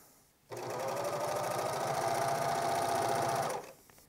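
A sewing machine stitches the sides and sleeves of a child's pajama top in one loud, continuous run of about three seconds, its rapid needle chatter close and steady with no talking.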